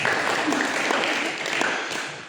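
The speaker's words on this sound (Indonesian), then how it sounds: "Tepuk tangan buat Anda semua" A church congregation at a Saturday worship service breaks into applause, a dense wash of many hands clapping at once that holds steady for a couple of seconds, with a faint voice underneath.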